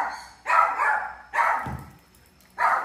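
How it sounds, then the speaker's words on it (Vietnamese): Dogs at a villa bark three times in short, loud, sharp bursts with pauses between them. A single low yip sounds in the middle. "Trời đất ơi, mấy con cún này."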